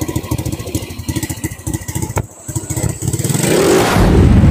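Motorcycle engine that had stalled, sputtering and clattering before revving up loud and close, building to a sustained roar.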